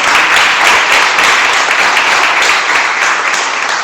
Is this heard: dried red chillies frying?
no